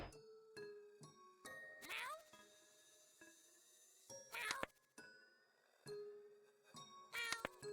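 Cartoonish cat meows from the video game YIIK, heard three times when a cat is thrown, each cry mixed with chiming, tinkling game sound effects over soft background music.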